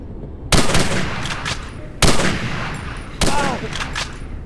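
Machine gun bursts from an MG in the Hidden & Dangerous Deluxe military shooter, three sharp, loud bursts about one and a half seconds apart, each followed by a short echoing decay.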